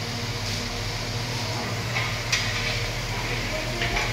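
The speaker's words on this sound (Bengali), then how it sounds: "আলু ভাজা হচ্ছে" Potatoes frying in a pan, a steady close sizzle with occasional stirring scrapes, continuous throughout.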